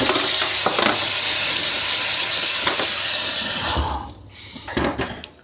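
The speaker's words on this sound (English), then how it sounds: "put the sausages in first" Sausages fry in a pan with a steady, loud, broadband sizzle that later drops away, followed by a few clanks of the pan near the end.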